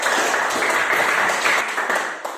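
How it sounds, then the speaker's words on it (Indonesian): A class of children claps their hands together in a lively, steady patter, close and fairly loud, lasting a couple of seconds without talk. "Tepuk tangan untuk kita semua."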